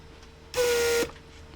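A Mercedes W140 central-locking pressure and vacuum pump runs in one short, steady buzzing hum of about half a second, loud and close, then cuts off abruptly into quiet background.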